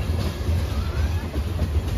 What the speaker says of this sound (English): The end of the train coming up.